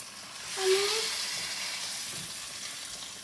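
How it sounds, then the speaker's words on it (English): Bacon fat sizzles and crackles steadily in a hot pan, a soft continuous hiss close by, with no voices. "we've got some sizzling fat there and it's starting to peel"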